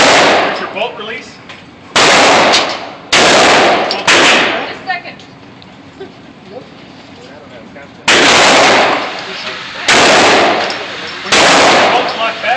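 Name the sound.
rifle gunshots at a shooting range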